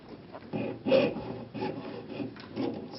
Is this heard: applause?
no